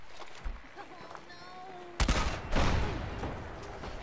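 A mortar fires in Fallout 4, a sharp loud burst followed by a second rumbling blast and a lingering boom.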